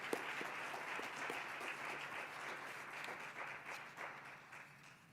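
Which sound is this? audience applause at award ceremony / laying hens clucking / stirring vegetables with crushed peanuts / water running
audience applause at award ceremony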